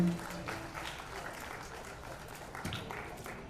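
Applause for a singer at a Republic Day celebration event, a moderate crowd clapping steadily with scattered louder claps and some voices underneath.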